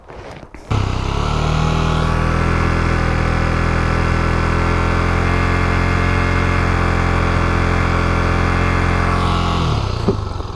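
A 2021 Yamaha MT-09 motorcycle engine revs up and holds a steady, loud, droning high RPM for about ten seconds before dropping back, heard close and without speech.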